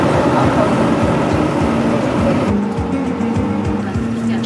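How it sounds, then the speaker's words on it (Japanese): A car driving along a highway in Iraq, a loud steady road and engine roar from inside or near the vehicle, with rhythmic thumps over joints in the surface. "昨日通った高速道路を走ってナシリアに戻ります。"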